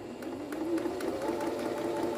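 Low-priced imported multi-purpose sewing machine stitching dark fabric, a steady fast mechanical whir with rapid needle ticking, close and fairly quiet with no talking.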